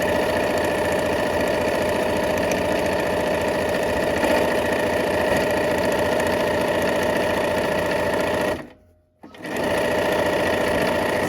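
A sewing machine stitches rows of quilt blocks together, a loud steady mechanical whir running close by, stopping briefly near the end and then starting again.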